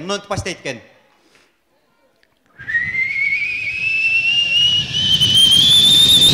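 A person's voice imitates a whistling kettle, a thin, high whistle that starts after a short pause and slowly rises in pitch and loudness over several seconds, following a few spoken words.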